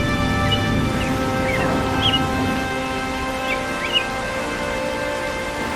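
Cartoon rain falls as a steady, fairly loud hiss that runs unbroken throughout, with faint sustained tones and a few brief chirps over it.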